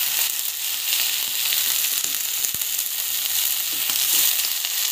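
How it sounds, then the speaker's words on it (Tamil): Puffed rice upma ingredients fry in a pan with a steady close hiss and sizzle, joined by a few faint scrapes of stirring. "அவ்வளோதான் போட்டுட்டு ஜஸ்ட் வந்து ஃப்ரை பண்ணி வச்சுக்கோங்க"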